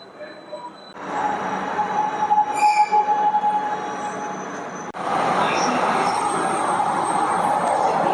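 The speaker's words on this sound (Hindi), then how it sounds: "So I'm finally in Metro, Mumbai Metro, and this is the ladies coach." Mumbai Metro train running with steady rumbling rail and wheel noise inside the ladies coach, rising louder after a few seconds, with a faint wheel squeal early on.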